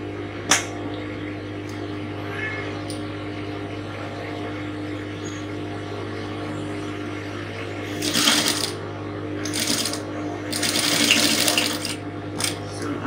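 A sewing machine stitches a Victorian corset top with a low, steady motor hum under the stitching. Several short, louder bursts of rapid stitching come near the end, with a faint voice in the room.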